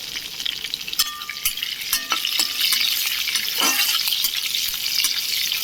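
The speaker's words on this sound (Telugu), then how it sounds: "కొంచెం జీలకర్ర వేసుకొని వేపుకుంటున్నాం ఆయిల్లో" Cumin seeds crackling in hot oil with green and dried chilies, chana dal and mustard seeds for a Telugu chutney tempering; a loud, close, continuous sizzle with sharp pops and a few stirring scrapes, no talking.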